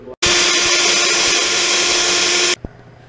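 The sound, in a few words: drilling sound holes in guitar body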